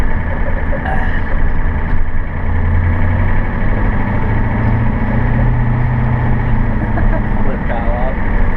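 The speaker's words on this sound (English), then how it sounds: "Shifted through the gears in the IDI 1985." A 1985 Ford F250 pickup with the 7.3 IDI diesel runs loud and steady, its low engine drone rising and easing as it works through the gears, with road and cab rumble throughout and no clear talk.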